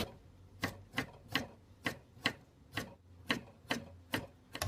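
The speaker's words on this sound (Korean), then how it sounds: "고구마도 적당한 크기로 당근 길이와 비슷하게 이렇게 채썰어 주시고요." A knife cuts sweet potato into thin julienne strips on a cutting board, giving about ten sharp, evenly spaced chops in a steady rhythm. The cuts are close and clear, with no talk.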